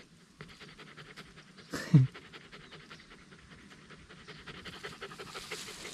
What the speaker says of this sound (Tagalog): Hingal na hingal ka pa.